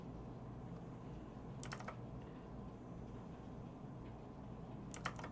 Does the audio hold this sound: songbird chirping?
no